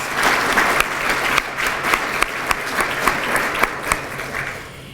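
An audience at a university half-century alumni reunion breaks into steady applause, a dense wash of many hands clapping at close range for several seconds with a few sharper individual claps standing out.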